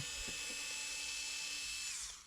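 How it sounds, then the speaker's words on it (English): Electric screwdriver removing screws from a Dyson V8–V15 cordless vacuum during a repair: a steady high-pitched motor whine runs throughout and winds down at the end, close and continuous, with no talking. "We'll have to take it out with a TA screwdriver"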